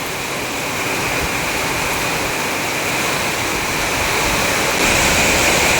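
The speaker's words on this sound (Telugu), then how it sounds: "ఫుల్ గాలివాన్ అయితే పడతా ఉంది ఇక్కడ చూడండి సౌండ్ వినండి" Heavy rain driven by strong wind pours down as a dense, loud, unbroken roar that builds slightly, with no voices heard.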